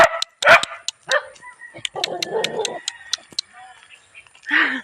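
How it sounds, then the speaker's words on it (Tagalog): Dogs bark in sharp, close bursts around a person outdoors in the morning, with quick yips and a short whimper, and a voice talks in between. "Tinatahol ako ng mga aso"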